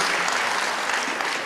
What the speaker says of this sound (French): on continue à les applaudir s'il vous plaît